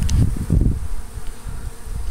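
Honey bees buzz around the entrance of a hive in a tree, a steady near droning hum with a couple of louder swells as insects pass close.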